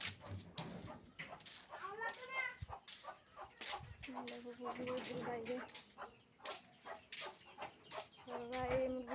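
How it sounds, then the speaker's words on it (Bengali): A chicken clucks inside a house, with short, repeated clucks scattered through the clip and voices talking nearby. "এই মুরগি ঘরে ঢুকে গেছে গা"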